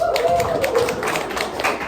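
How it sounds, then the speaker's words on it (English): A short burst of audience applause at a company holiday party, scattered claps close and clear, with a voice or tonal sound briefly underneath. "Let's give a round of applause."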